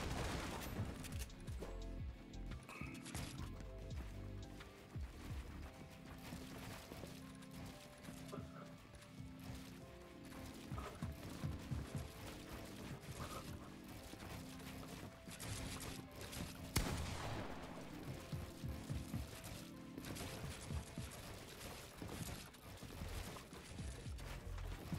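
Video game gunfire in a piece-control match, with rapid bursts of shots and mechanical clatter layered over a dense, busy game mix throughout.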